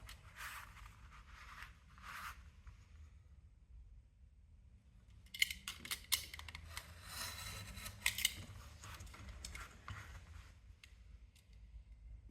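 Scissors cutting out a traced leather wallet pattern: short bursts of snipping early on, a quiet pause, then a denser run of crisp cuts and scrapes, close and fairly soft.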